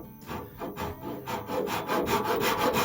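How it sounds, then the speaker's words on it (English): A Japanese pull saw cuts through wood for a wheelbarrow repair, close rhythmic rasping strokes that repeat about every fifth of a second and build slightly louder. "It's one of these Japanese pull saws."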